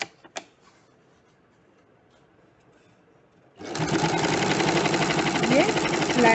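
A sewing machine stitches a flat seam in fabric folded over about half an inch. Two soft clicks come first, then near silence, and then the motor starts a loud, steady, rapid running whir that lasts to the end.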